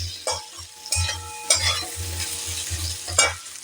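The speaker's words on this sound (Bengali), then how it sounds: "এটাকে এবার সুন্দর করে আমরা ভাজা করে নেব। ফ্লেমটা কিন্তু একটু লো রাখবো।" Chilli powder and turmeric frying over low flame in a pan for cabbage curry, with a steady close sizzle broken by repeated rhythmic scraping stirs of a spatula.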